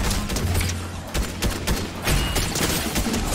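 Rapid gunfire in the video game Fortnite, a burst of repeated sharp shots and thumps packed closely together over a few seconds, loud and near.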